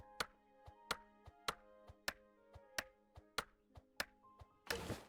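Chopping in the video game Spirit of the Island, a dozen sharp, evenly spaced thuds ringing with a faint wooden resonance and ending in a brief noisy crash, quiet and isolated without speech.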